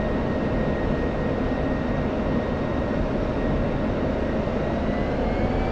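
An F-16 fighter jet approaching overhead at speed, its engine making a loud, continuous roar with a faint rising whine held steady for several seconds, with no voices.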